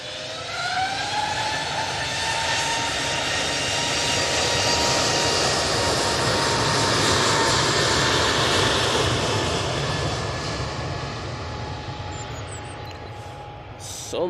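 EasyJet airliner at Manchester Airport, a sustained jet engine roar with a rising whine tone that swells to a peak midway and then slowly fades as the aircraft moves off.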